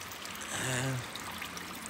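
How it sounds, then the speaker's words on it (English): Water trickles and pours out through the bottom drain of a BMW 1 Series car door with a leak, a brief close dribble swelling and fading over low background noise. "it's emptying out through the bottom of the door"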